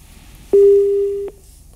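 On a call-in religious program, one loud, steady telephone line disconnect tone sounds for under a second and stops cleanly, with no talk over it.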